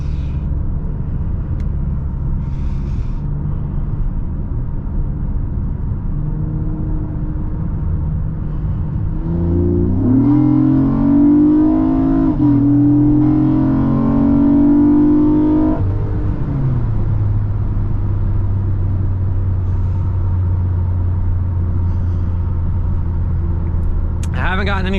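A 2014 Honda Accord Coupe V6 builds engine revs during a rolling acceleration from about 40 mph, a rising, droning roar lasting several seconds over steady road rumble, then settling back into even cruising.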